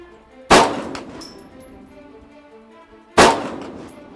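Two sharp, loud rifle shots ring out about two and a half seconds apart at an Army shooting competition, each a sudden crack with a lingering echoing tail, and no voices between them.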